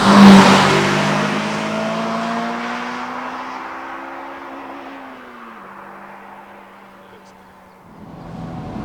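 A Honda S2000 engine revs high and holds a loud droning pitch, then eases down before briefly picking up again near the end.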